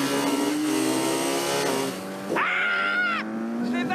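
A motorcycle engine revs hard and climbs in pitch, then drops and surges again in sharp bursts on a road ride along the Côte d'Azur, loud and close with no talk over it.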